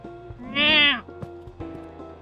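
Cat meowing in the video game Coffee Talk: a single drawn-out, rising-falling meow near the middle, fairly loud and close, with soft game sounds around it.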